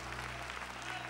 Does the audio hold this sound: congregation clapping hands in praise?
yes